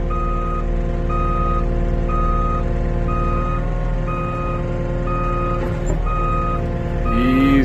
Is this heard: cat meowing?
no